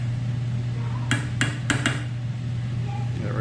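Metal spoon clinking and scraping against a pan while stirring beef-base gravy of flour and oil, four distinct sharp taps close together over a steady low hum.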